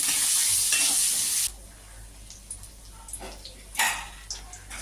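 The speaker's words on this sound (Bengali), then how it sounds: "এবার আমি বেগুনটাকে একটু লালচে করে ভেজে নেব" Eggplant pieces seasoned with salt and turmeric frying in a pan: a loud, close, hissing sizzle for about a second and a half, then a much quieter crackle with scattered small pops and clicks.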